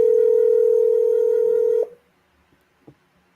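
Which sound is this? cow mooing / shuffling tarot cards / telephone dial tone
telephone dial tone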